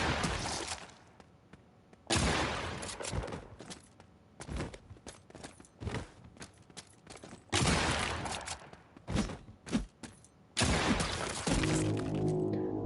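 Gunfire in the video game Dark Essence: a series of loud shots and heavy impact thuds, some in quick bursts and others spaced apart, with no talking over them.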